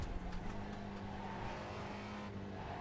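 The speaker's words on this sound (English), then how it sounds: "I do like to carry a little trail in, downshift, get some throttle in, back off, and then back onto throttle." Spec Racer Ford race car at Barber Motorsports Park, heard onboard as the engine holds a steady drone while the driver downshifts and works the throttle on and off through a corner, with faint tire noise, continuous and fairly loud.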